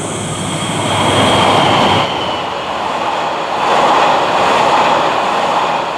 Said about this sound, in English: This is 7 Stars in Kyushu, a classy cruise train for tourists.